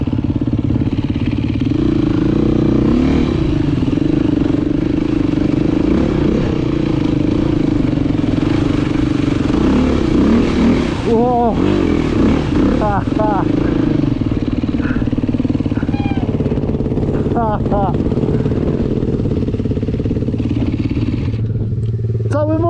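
A motorcycle engine drones steadily and loudly throughout, with revving surges and rattling as it rides over rough ground.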